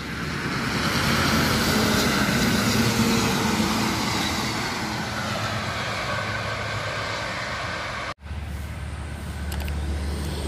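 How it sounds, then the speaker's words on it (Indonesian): A tour bus passing on the Trans Java toll road: a loud, broad roar of the engine and tires builds and sweeps past, then fades into steady traffic rumble, with a brief dropout near the end. "ada bus pariwisata."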